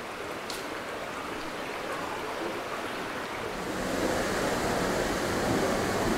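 River water rushing steadily through Ecuadorian jungle, a broad, continuous wash of flow that swells slightly louder midway and carries on without pause, no voices present.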